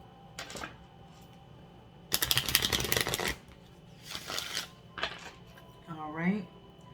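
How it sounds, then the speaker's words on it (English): A deck of oracle cards is shuffled by hand in quick riffling bursts, with short pauses between bursts and a voice speaking briefly near the end. "We do 3 shuffles on these."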